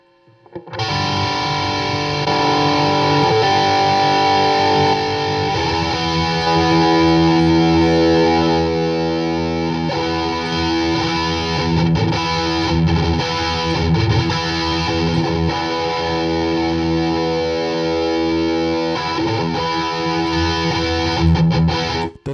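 A loud, distorted electric guitar plays sustained chords and riffs through an amplifier, continuous and close.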